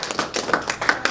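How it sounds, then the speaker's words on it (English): A small group claps for boxer Lamont Roach after a fight, a sparse run of light, close individual claps in an uneven rhythm lasting about a second. "Let's give him a round of applause"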